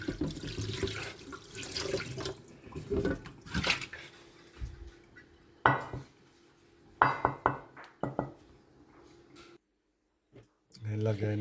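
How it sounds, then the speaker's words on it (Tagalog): The pet dog Chewy's food bowl being washed under a running tap, with water splashing in bursts, the bowl clattering and clinking against the sink, and a short quiet pause before the water starts again. "Hugasan mo ng mabuti yan. Kainan ng aming bunsong si Chewy."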